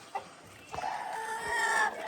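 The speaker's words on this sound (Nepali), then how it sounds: "सब भाले भाले मात्र खान्छ" Roosters cluck while feeding outdoors in the morning: a short cluck rings out near the start, followed by continuous, fairly close, tonal clucking calls that swell toward the end.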